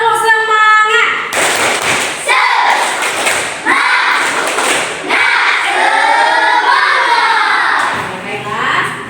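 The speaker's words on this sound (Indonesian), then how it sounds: "Tepuk semangat." A school class claps in a loose rhythmic pattern, bursts of hand claps separated by short pauses, with voices chanting along.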